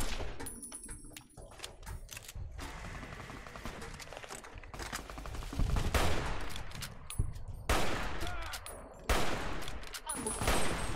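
Bursts of rapid gunfire from a firefight in Fallout: New Vegas, with automatic volleys and single shots that come in uneven clusters and quieter gaps between them, loud and close.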